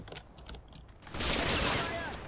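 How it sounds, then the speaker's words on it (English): An MP40 submachine gun in Combat Mission rattles out a dense burst of fire that kicks in midway and stays loud, following a quieter stretch of faint clicks and background game sounds. "eventually the MP40 nails him"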